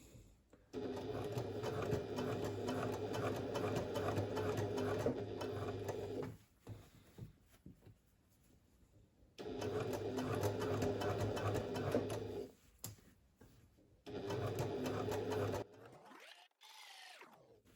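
A sewing machine stitches the seam of a fabric pouch in three steady bursts, a fast even mechanical chatter that pauses briefly between runs while the fabric is guided.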